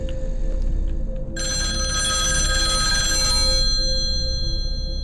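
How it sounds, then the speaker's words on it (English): A telephone rings continuously indoors, a loud bright electronic ring that starts abruptly and sustains for a few seconds before stopping, with a steady low hum underneath. "It's gonna keep ringing, so I might have to answer it, right?"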